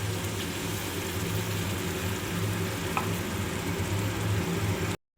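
Ginger garlic paste fries in a hot pan and is stirred, giving a steady, even sizzle with a low rumbling hum underneath that continues unbroken until it cuts off abruptly near the end.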